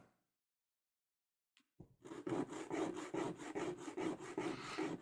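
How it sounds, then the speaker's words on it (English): A small miniature is rubbed back and forth across a file lying on a table, making steady, close rasping strokes that begin after a brief silence and a couple of taps. "Now we're actually going to do a little bit sanding."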